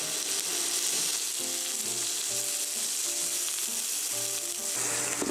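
Olive oil sizzles and fries in a pan, a loud, continuous close hiss with faint clinks and tones over it, no voices present.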